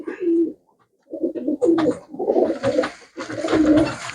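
Domestic pigeons coo in several close, loud bursts with short pauses between, the low throaty calls repeating steadily with no talk over them.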